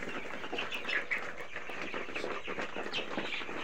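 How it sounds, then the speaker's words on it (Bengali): Egyptian layer chicks, 27 days old, on a poultry farm at about 2 a.m.: a dense, continuous chorus of high peeping and soft chirps from many birds close by, with no speech. "আমি যেই মুরগির বাচ্চাগুলো আপনাদেরকে দেখাবো সেগুলো হচ্ছে মিশরি লেয়ার মুরগির বাচ্চা"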